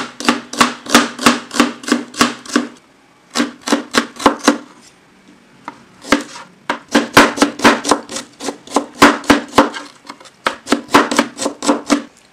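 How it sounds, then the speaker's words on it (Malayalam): A knife chopping capsicum, onion and tomato on a cutting board, fast regular runs of crisp thuds broken by short pauses, loud and close, with no one speaking. "ക്യാപ്സിക്കം, ഉള്ളി, അതുപോലെ തന്നെ തക്കാളി, ഇത് മൂന്നുമാണ് ഞാൻ ഉപയോഗിച്ചേക്കുന്നത്. അപ്പം നമുക്കതൊന്ന് കട്ട് ചെയ്ത് മാറ്റി വയ്ക്കാം."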